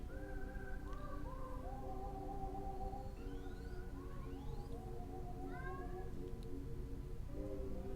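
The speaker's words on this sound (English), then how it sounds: "Cat." A cat meows repeatedly throughout, its rising and falling cries overlapping in quick succession over a steady low hum, fairly close and clear with no talk.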